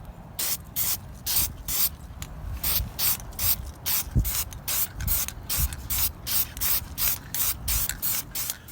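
A spray paint can dusts a light coat onto a Comanche 152ci intake manifold from a 1965 International Scout 800, sounding as a steady run of short hissing bursts, each about half a second, close and alone.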